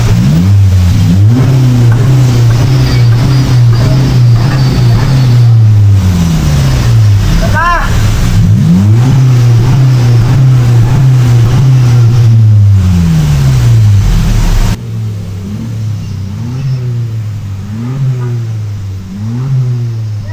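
A Honda Civic FC RS Turbo with a free-flow exhaust muffler revs repeatedly, loud close engine drone swelling and falling in several rev sweeps, then dropping to a lower idle near the end.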